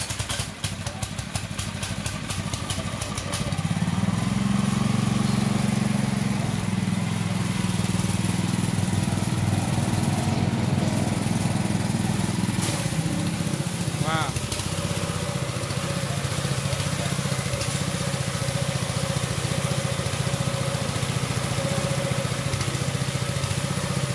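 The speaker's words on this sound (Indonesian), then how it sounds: "sekarang mari kita coba seperti apa hasil dari tarikannya, tarikan airnya setelah ganti oli pompanya" An IP Power 3200 water pump runs after its oil change, a small engine starting up and settling into a steady, loud, droning run with a mechanical clatter. It keeps going continuously for over twenty seconds, with no speech.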